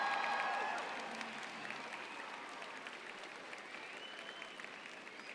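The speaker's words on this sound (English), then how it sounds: "How about another round of applause for the Dixieland Band?" Crowd applause at a college commencement ceremony for a Dixieland band, fairly distant and sustained, starting with cheers and a few whistles that fade into steady clapping.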